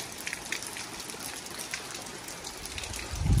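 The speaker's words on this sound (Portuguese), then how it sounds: "Olha o tanto de chuva, meu Deus do céu." Rain falls steadily on a small farm with muddy yards, a close, even patter of drops with a low thump near the end.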